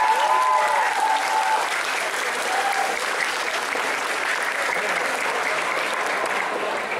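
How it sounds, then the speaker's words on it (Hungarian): Sustained audience applause at a summer cosplay convention craftsmanship contest, a loud, dense crowd clapping steadily throughout with no letup. "szóval nagy tapsot neki!"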